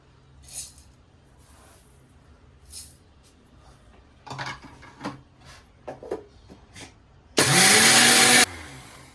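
Mixer grinder grinding coriander seeds into powder: after scattered clicks, taps and handling noises, the motor bursts on loudly for about a second with a rising whine, then cuts off abruptly.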